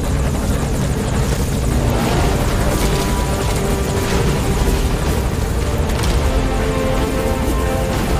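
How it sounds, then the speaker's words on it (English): A helicopter arrives in the video game Metal Gear Solid V: The Phantom Pain, its rotor roar a loud, dense, steady wash that fills the scene throughout. "And there's our chopper."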